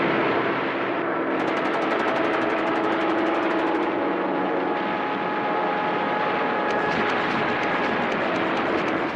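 Japanese kamikaze aircraft diving on the American fleet in wartime footage: a steady, loud engine drone fills the whole stretch, with a faint rapid rattling breaking in twice, no voices.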